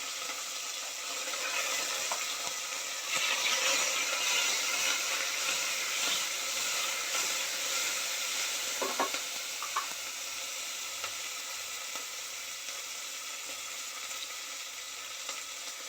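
Curry leaves, chillies and onions sizzle and crackle steadily in hot oil, a continuous close frying hiss with brief louder spatters partway through.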